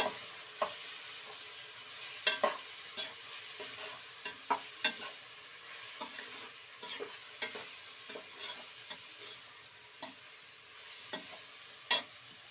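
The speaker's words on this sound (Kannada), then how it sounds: "ರುಚಿಗೆ ತಕ್ಕಷ್ಟು ಉಪ್ಪು ಹಾಕಿ ಚೆನ್ನಾಗಿ ಒಂದ್ಸಲ ಮಿಕ್ಸ್ ಮಾಡಿ" A spoon stirs salted pasta in a pan, giving soft scraping strokes and light clicks at an uneven pace over a faint sizzle, fairly quiet and close.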